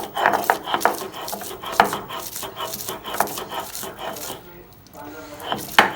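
Black cumin seeds are ground on a stone slab (pata) in a rhythmic series of scraping, rubbing strokes, close and fairly loud, with a brief pause near the end.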